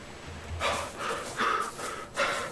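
A male character in the video game Ark: Survival Evolved breathes four or five times, heavy in-and-out huffs at a steady rhythm, close and clear with no speech.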